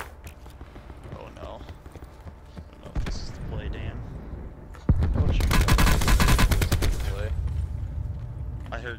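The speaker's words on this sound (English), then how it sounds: "Guys shooting above the hill." Gunfire in the battle royale video game Call of Duty: Blackout, loud bursts of rapid automatic shots around the middle of the clip following quieter distant pops, with players talking over the action.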